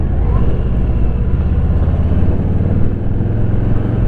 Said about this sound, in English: I am on a 2022 Harley-Davidson Softail Standard.